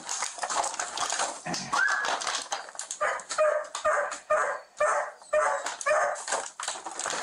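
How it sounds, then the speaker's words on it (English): A dog in a house barks and whimpers close by, with repeated sharp barks and whines in an uneven rhythm that runs through the whole stretch without pause. "The dog doesn't quite trust this masked stranger"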